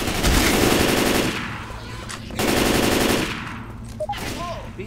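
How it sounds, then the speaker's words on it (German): Sustained automatic gunfire from the video game Left 4 Dead 2, two long loud bursts of rapid shots separated by a short pause, with brief in-game effects trailing at the end. "Wieso schießt ihr dauernd auf mich?"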